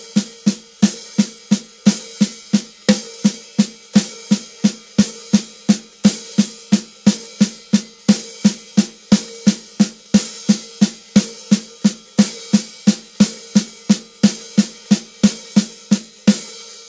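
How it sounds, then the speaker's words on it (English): A drum kit plays a steady, rolling eighth-note triplet pattern between the feet, with even repeated hits forming a continuous loping rhythm throughout. "it's going to sound like a consistent eighth note triplet feel."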